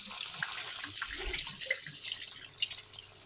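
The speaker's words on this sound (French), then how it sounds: "on va insister un peu sur le rinçage" A leek is rinsed under a running kitchen tap, a steady close rush of water with splashing shifts as the vegetable moves through the stream; no one speaks.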